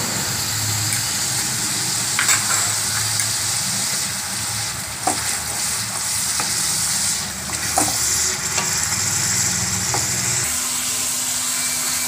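Chal magoj (rice-and-melon-seed) paste frying in a pan with onion-garlic paste for shahi butter paneer, a steady close sizzle with stirring scrapes and occasional utensil clicks throughout, no talking.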